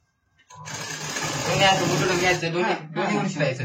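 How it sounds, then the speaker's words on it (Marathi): A sewing machine stitching blouse fabric starts up after a brief silence and runs in a close, steady whirring drone with a short pause near the end before resuming, while someone talks over it. "आता आपल्याला अशा पद्धतीने त्यावर एक टिक मारून शिलाई कसं द्यायचं"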